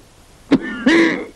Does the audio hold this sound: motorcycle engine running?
no